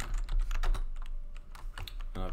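Rapid, uneven clatter of keys on an old, poorly working computer keyboard, close and fairly loud, with bursts of strokes and brief pauses.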